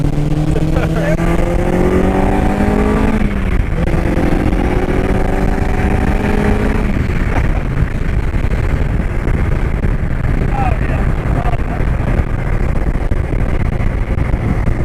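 A 2022 Honda S2000 Indy RR car-engined vehicle on a test drive, its engine droning loud and close with rising and falling rev pitch, heard under continuous talk.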